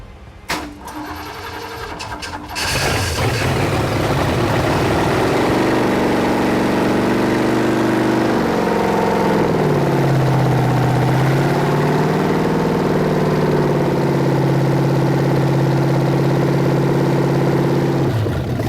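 A recently rebuilt Ford engine cranks for a couple of seconds, then catches and runs loud and close, settling into a steady idle with the pitch dipping and wavering slightly.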